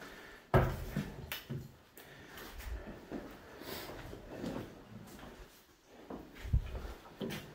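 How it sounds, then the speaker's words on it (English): A door in a hospital surgical area opening, with a sudden thud and rattle followed by rustling and shuffling movement, then another firm knock-like bump near the end. "Hold this door real quick."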